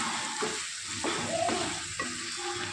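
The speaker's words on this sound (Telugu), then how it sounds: "ఈ ఉప్పు కూడా చికెన్ ముక్కలకు పట్టేటట్లు ఒకసారి బాగా కలుపుకుందాం" Chicken pieces with salt stirred in a hot frying pan, a steady sizzle broken by several scraping spoon strokes, close and moderately loud with no talk.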